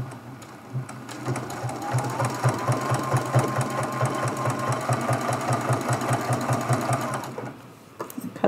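A sewing machine runs steadily while stitching down applique pieces for a Christmas tree ornament, its close, even needle clatter holding for several seconds before it stops.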